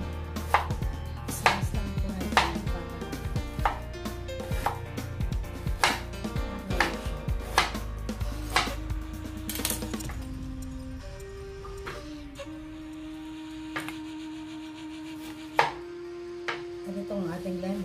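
Ginger being chopped on a cutting board for a ginger shot: a run of sharp, evenly spaced knife strikes, close and loud, slowing to a few sparse chops while a faint tone lingers underneath.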